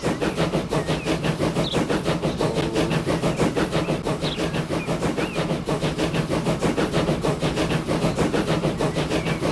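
A steam locomotive with its tender running in the railway simulation game Transport Fever gives a steady, loud mechanical rumble with a fast rhythmic clatter that carries on without a break and with no voices.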